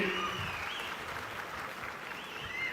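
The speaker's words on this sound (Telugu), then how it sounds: "గట్టిగా చప్పట్లు కొట్టి అభినందించండి." Steady applause from an audience at a political meeting in Chirala fills the whole stretch, even and sustained, ending with a sharp clap burst.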